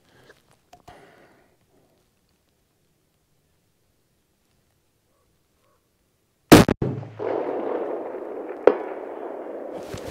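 A single sharp gunshot from an MDT HNT26 chassis rifle in .338 Lapua fired off a tripod, a loud close crack after several seconds of near silence, followed by a long rolling echo with a faint distant impact.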